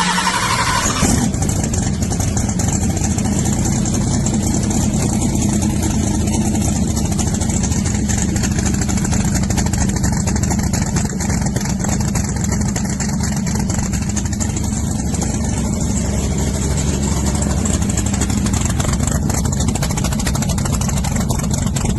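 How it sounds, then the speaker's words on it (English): A drag race car engine fires up for its first startup and then settles into a loud, steady idle with a rough, throbbing rumble that holds throughout. "it's the first startup of the car"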